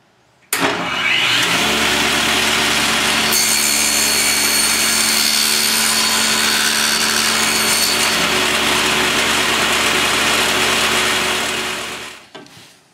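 Radial arm saw running as it cuts a lap into a wooden front board clamped in place, a loud steady motor whine with broadband cutting noise lasting about twelve seconds before winding down.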